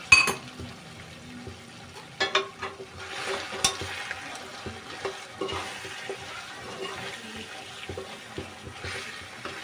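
Chicken korma masala with half a spoon of turmeric being stirred in a pan, soft scraping strokes and a low sizzle repeating irregularly at close range, fairly quiet with no talking.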